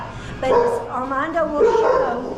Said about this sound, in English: So you can hear them barking.